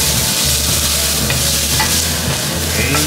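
Onion and ginger stirred and fried in a pan for a lobster and curacha dish, a steady loud sizzle with scraping stir strokes throughout, no talking.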